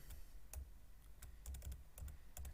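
Typing on a computer keyboard while coding an Arduino serial print project, irregular clusters of fairly close key clicks across the whole stretch, with no voices.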